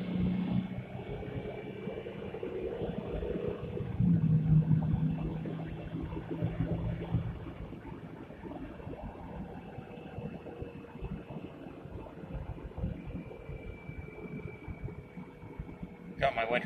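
Steady low drone and road hum inside a 2008.5 Jeep Grand Cherokee WK with a leaking differential cover and winter tires, lingering off the throttle while driving, with someone talking over it throughout.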